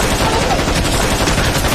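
A machine gun fires blindly at snipers in a Korean War film, a dense, loud rattle of continuous shots heard up close throughout.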